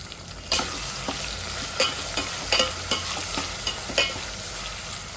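A spoon stirs tomatoes with salt and turmeric in a sizzling pan, sharp scraping strokes landing every half second or so over a steady hiss.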